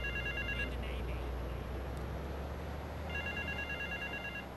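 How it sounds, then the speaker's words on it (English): In Grand Theft Auto 3, a phone rings in two short bursts of electronic trilling, separated by a pause, fairly faint over steady game background noise. "Oh, how do I answer my phone? Or is there a phone around here?"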